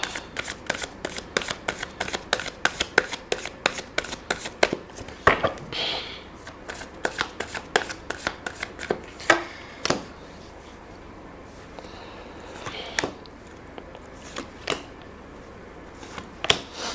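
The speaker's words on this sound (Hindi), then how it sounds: "मुझे दोबारा शफल करना पड़ेगा बिकॉज डेक को उल्टा पकड़ा था" A deck of tarot cards is shuffled by hand, with repeated crisp riffling flicks and taps close to the microphone that thin out toward the end.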